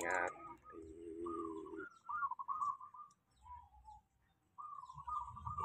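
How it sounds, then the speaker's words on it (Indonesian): A zebra dove (perkutut) gives a few soft coos and whistled call notes, close and fairly quiet, in short phrases separated by brief pauses with faint background sounds. "Perkutut ini tuh, perhatikan."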